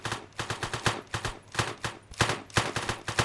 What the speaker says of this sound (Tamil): டப்பு டப்புனு சுடாத கொஞ்சம் கொஞ்சமா சுடு ஏன்னா புல்லட் வேணும்